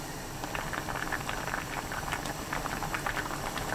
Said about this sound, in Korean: 양파, 순두부 넣고 3분 끓입니다.